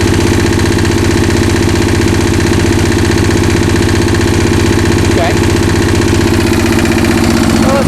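A 65-year-old Onan diesel generator set runs steadily while warming up, a loud, close, even mechanical drone with a constant throbbing rhythm that lasts the whole clip, with a faint brief knock partway through and no voices.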